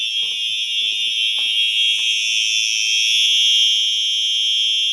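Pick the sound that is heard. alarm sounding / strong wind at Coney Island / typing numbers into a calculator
alarm sounding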